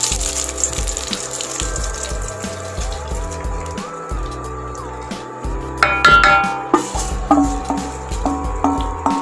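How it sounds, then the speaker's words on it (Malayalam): Hot oil tempering of mustard seeds, dried chillies and curry leaves is poured into a pot of astram curry, a hiss and splash that swells near the end among clinks of utensils. "ഇനി നമുക്കിതിനെ അസ്ത്രത്തിലേക്ക് ഒഴിച്ചു കൊടുക്കാം കേട്ടോ."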